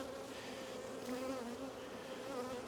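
Honeybees in a strong hive being opened for its first inspection of the season hum in a continuous dense buzz, close and steady, with no one speaking.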